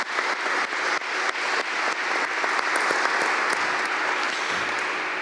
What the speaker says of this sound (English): let's give Coach Kyle Hunt a round of applause